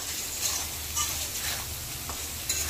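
Tomato chunks sizzling and being stirred with spices in a hot pan for kolai dal tadka, a steady loud frying hiss with brief utensil scrapes, no voices.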